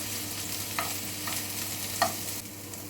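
Thinly sliced white and red onions sauté in a pan, giving a quiet, continuous sizzle with a few soft stirring scrapes, heard up close with no voices.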